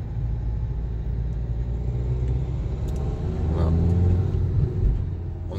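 A 2017 Citroën Berlingo with the 1.6 HDi 100 diesel accelerates. Its engine note is a steady, loud low rumble heard from inside the cabin, and it swells a little toward the end.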